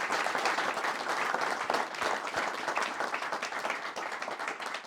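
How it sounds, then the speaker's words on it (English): Audience applause at a Boss Outdoor fishing talk night, a dense, steady wash of many hands clapping close and loud for about five seconds, fading slightly toward the end. "Big round of applause"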